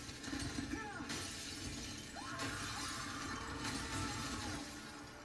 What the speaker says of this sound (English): Smash all the glass.